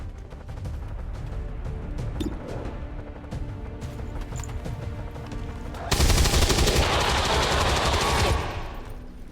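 Gunfire in the video game XCOM 2: dense rapid bursts of shots run throughout, swelling into a louder, heavier barrage near the end, with no talk over it.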